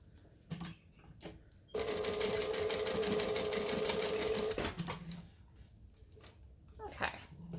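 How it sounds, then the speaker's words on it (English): A sewing machine runs a long stitch through vinyl or leather in one rapid mechanical burst of about three seconds, with handling noises and brief speech around it. "now I'm going to stitch those down with a longer stitch length so that I don't over perforate my vinyl or leather"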